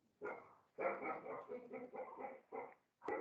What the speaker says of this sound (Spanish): Tengo un perro ahí intenso ladrando.